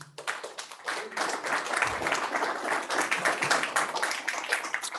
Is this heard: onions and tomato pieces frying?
no